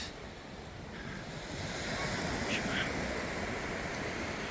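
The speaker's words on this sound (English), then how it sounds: "This is the big ocean." Ocean surf and wind at a bar mouth where a river meets the sea, a steady broad roar of breaking waves with gusty wind noise buffeting the microphone, swelling slightly louder midway.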